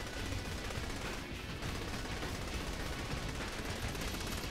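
Dense, continuous gunfire in Saints Row: The Third, a loud unbroken rattle of rapid shots with only a brief dip early on and no talking.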